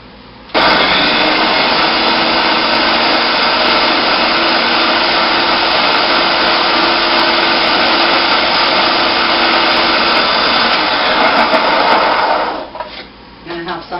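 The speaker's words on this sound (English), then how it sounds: "And then we're going to puree it up and form it into little meatballs." Blender pureeing a raw meatless meatball mixture of mushrooms and olive oil, a loud, steady motor whir running close for about twelve seconds before cutting off into quieter clatter.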